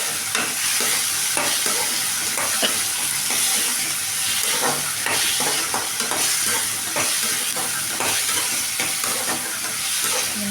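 Curry leaves sautéing in hot oil in a pan while a bottle gourd kootu is being made: a steady, close sizzle with repeated scraping stirs throughout, no talk.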